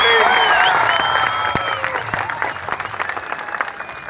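Loud applause from a large crowd at a Krishna Pushkaralu riverside gathering, sustained clapping that gradually thins into scattered claps, with some voices mixed in.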